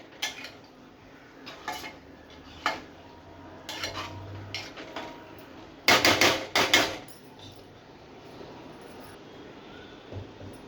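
Spoon stirring Dhaba-style paneer masala gently in a metal pan, scattered clinks and scrapes of metal on metal, with a louder cluster of rapid clanks midway, close and otherwise quiet.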